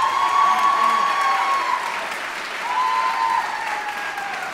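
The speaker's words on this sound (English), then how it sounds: "So let's have applause for them" An audience at a Merkin Hall concerto concert applauds teachers and administration, steady full clapping with a sustained tonal hum running beneath it that fades partway and returns.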